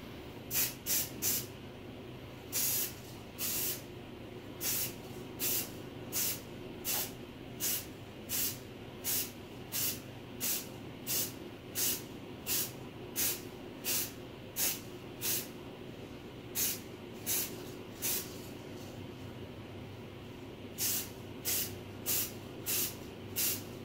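A spray paint can hisses in short, even bursts as it is passed lightly back and forth, about two dozen close, crisp sprays with brief pauses between them.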